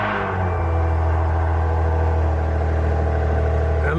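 A Maserati Ghibli engine runs steadily close by, a deep continuous rumble and whir with a slight rise in revs toward the end, loud and alone with no talking.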